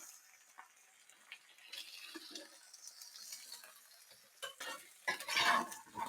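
Eggs sizzle and crackle in a frying pan, a faint fizzing bed that grows livelier with scraping and stirring clatter toward the end, heard close with no voices.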